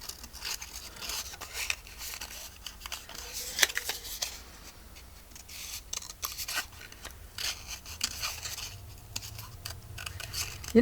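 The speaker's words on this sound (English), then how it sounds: "Let's fussy cut. It won't take but a second." Scissors fussy cutting paper for a journal project: steady small snips and rustling paper scrapes going on through the clip, soft and close, with no talk.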